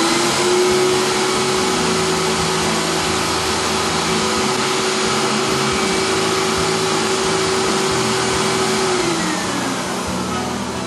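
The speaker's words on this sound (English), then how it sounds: "There's a vacuum underneath and it holds the paper in place" Vacuum table of a screen-printing press running under the paper, a loud steady motor roar with a constant mid-pitched whine that drops slightly near the end, close and continuous with no talking.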